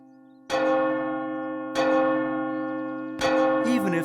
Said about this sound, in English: When the firehouse bell rang across the countryside, the volunteer firefighters responded.